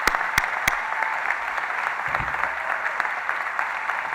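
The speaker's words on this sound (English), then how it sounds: "we can give you a round of applause for all you do for this city." Steady applause from a crowd at a State of the City address, dense clapping sustained throughout with a few sharper nearby claps standing out.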